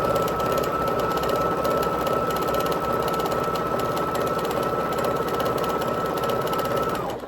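A sewing machine stitches a hearts-and-cross valentine quilt block, humming at a steady close-up drone for several seconds before winding down.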